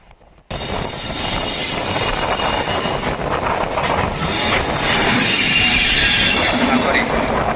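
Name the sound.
Padatik Express train arriving at Sealdah station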